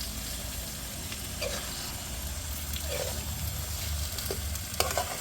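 Shrimp sizzling in a pan of butter and garlic, a loud, dense, continuous frying hiss with a few small pops and scrapes, close up and without speech.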